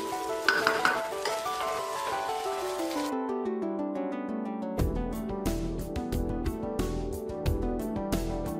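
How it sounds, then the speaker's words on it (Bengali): Rice frying in a pan for bhuna khichuri, sizzling steadily while a spoon scrapes and stirs against the metal in repeated strokes, with a musical tune playing throughout and no speech. "এখন আমি চালটাকে এভাবে ভেজে নিই।"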